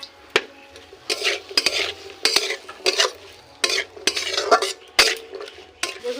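Vegetables are stirred in hot oil in a pan, with a utensil scraping and knocking against the metal in repeated irregular strokes over a soft sizzle, close and clear, with no voices.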